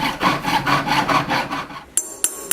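Steady back-and-forth rasping strokes of a hand saw cutting a small metal flower concho, rhythmic and close, ending with a few sharp taps.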